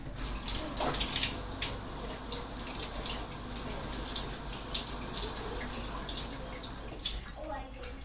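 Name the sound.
PVC sword piece held under running tap water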